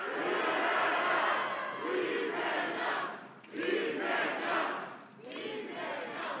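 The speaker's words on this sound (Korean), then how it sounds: "우리가 조직적으로 힘을 합쳐서 이렇게 함성이라도 질러야 하지 않겠습니까" A crowd at a political street rally in Chuncheon, Gangwon, shouts in long massed roars that swell and ebb in several waves, loud and reverberant, with no single voice standing out.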